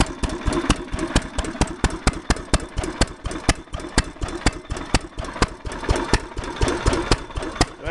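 A 1927 Fairbanks Morse flywheel engine runs steadily, giving a close, loud, regular chugging beat of evenly spaced firing pops at constant speed.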